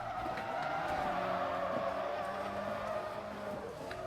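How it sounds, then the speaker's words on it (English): A Miata drifting in Forza Motorsport 3, its engine droning steadily while tires squeal in long, wavering slides, heard continuously at moderate distance. "Dude and his Miata drifting around."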